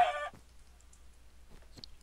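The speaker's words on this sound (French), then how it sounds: "Nico, il va y avoir des poulets partout." Chickens in the video game Minecraft, a short, sharp clucking burst at the start, then quiet with a few faint soft clicks.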